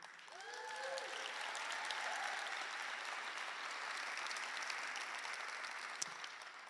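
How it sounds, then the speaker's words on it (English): Applause from an audience, steady clapping that swells briefly and holds at a moderate level, with faint voices mixed in. "y'all gonna get tired of clapping, so y'all might as well hold off for a second"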